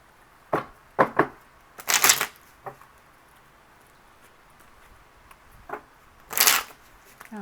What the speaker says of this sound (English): the cards do not want to shuffle